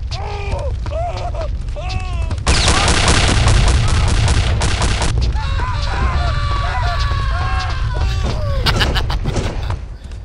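Gunfire rattles through a Return to Castle Wolfenstein firefight, with loud dense bursts and rapid automatic fire over constant game background noise, along with shouting voices in the game.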